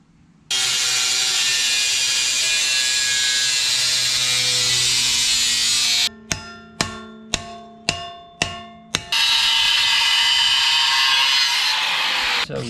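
Sheet metal being cut for a dash display mount: a long, loud, steady power-cutting whine, then a run of sharp, evenly spaced metallic snips or clunks, then the continuous cutting resumes, with no talk.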